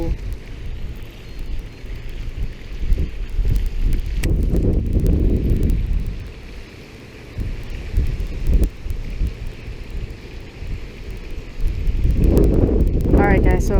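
Strong wind at a riverbank during fishing, a loud buffeting roar hitting the microphone in heavy gusts that ease midway and build again, with faint voices underneath.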